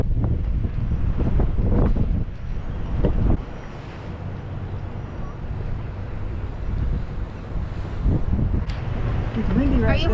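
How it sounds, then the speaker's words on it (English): Strong wind buffets the microphone at a lighthouse at Fort McAllister State Park, a steady roaring rush that runs through the whole stretch with brief gusts, while voices talk faintly underneath. "It's windy right there."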